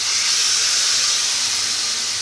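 Mutton chusta pieces hitting hot oil and spice masala, a loud, continuous close-up hiss of sizzling that holds steady throughout with no talking.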